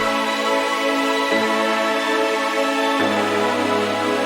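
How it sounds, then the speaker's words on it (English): Chorus synth layer in a song production mix, sustained bright harmonic pads holding steady chords that shift pitch twice, continuous and loud with no voices. "So all the synths sound like this in the chorus."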